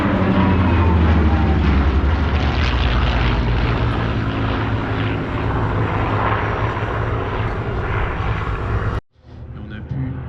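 Lightning fighter aircraft flying away at an air show, a loud, steady propeller-engine roar that holds for about nine seconds before cutting off abruptly, leaving faint background noise.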